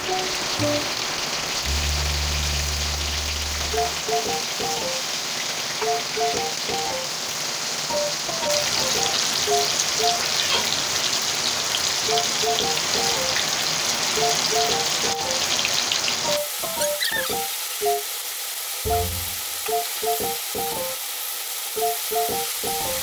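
Chicken frying in hot oil in a pan, a steady crackling sizzle with rapid spitting pops, continuous and close, with a few brief clanks of utensils.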